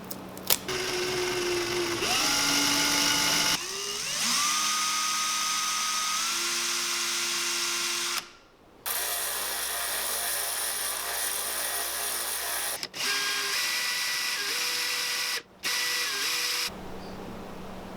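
Small rotary tool grinding and tapering the plastic lip of a handmade fishing lure, a steady high-pitched whine that changes pitch several times between short pauses, close and loud with no talking.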